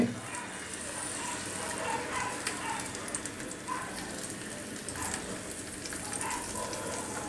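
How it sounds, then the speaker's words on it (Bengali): Yogurt gravy is poured into a saucepan of hot mustard oil for a hilsa fish dish, giving a soft continuous sizzle and crackle with scattered faint pops, fairly quiet throughout. "তার মধ্যে এগুলা প্রথমে একটু ঝোলটা ঢেলে দিব"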